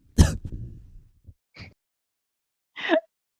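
A single harsh throat-clearing cough up close, followed by a couple of faint small sounds and a short rasping noise near the end.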